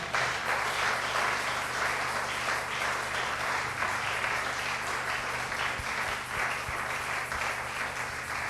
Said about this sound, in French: Là, tu m'as acclamé.